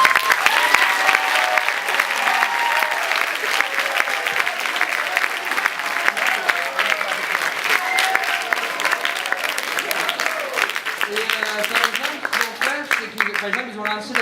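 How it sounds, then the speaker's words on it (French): An audience gives a warm, sustained round of applause for a school student council. The clapping is dense and continuous, with voices and a few cheers mixed in, and it thins toward the end. "j'aimerais qu'on donne une bonne main d'applaudissement pour l'année qu'ils ont eue cette année"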